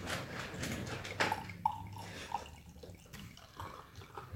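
Collaboration craft beer, Local King from Brekeriet, Local Option and Jester King alongside Boulevard Brewing, is poured into glasses: a soft, fairly faint stream of liquid splashing and trickling, with small drips and clinks, no talk.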